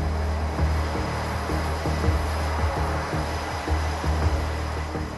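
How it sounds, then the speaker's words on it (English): The twin jet engines of an F-18 Hornet run on a Navy carrier flight deck, a heavy, droning roar with a throbbing low rumble and a thin high whine underneath. "the engines are brought to life, one at a time, producing the thunderous roar that characterizes modern jet operations"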